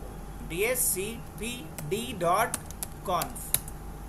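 Keystrokes on a computer keyboard while a config file is edited in vi on a Linux server, short clicky bursts scattered over about four seconds, mixed with someone talking throughout.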